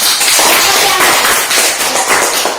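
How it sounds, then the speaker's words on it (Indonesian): Students in an elementary school math classroom clap together, a close, loud burst of dense, irregular hand claps that continues steadily throughout. "Bagus, kita tepuk tangan untuk A."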